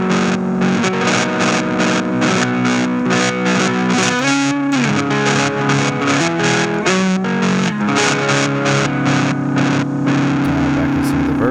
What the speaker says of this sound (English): you can get just the fuzz with the LFO since the reverb mix is separate from that